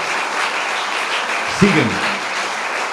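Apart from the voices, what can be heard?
applause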